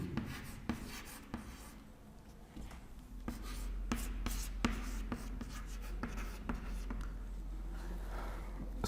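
Writing by hand during a history lecture produces quiet scratching strokes with sharp taps at irregular intervals, continuing for several seconds over a low, steady room hum.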